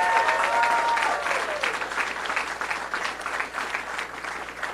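Sustained applause from an election-night audience honoring a campaign manager during a 2018 governor's victory speech, steady and dense for the full length with no pause.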